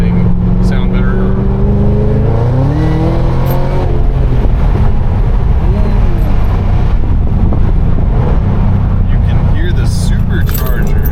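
Supercharged 2016 Cadillac CTS-V with a Roto-Fab cold air intake, revving with the windows down beside a fence line: a loud, steady engine roar with rising and falling pitch sweeps and supercharger whine, with people talking over it.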